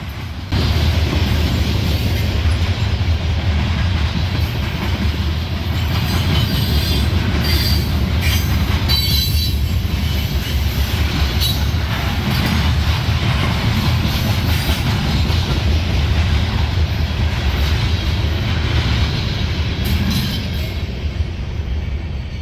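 A CSX excursion train passing on the north side of Cary, Ohio, running between Toledo and Columbus, with a steady loud roar of rail cars, wheel squeal and clickety-clack sustained throughout.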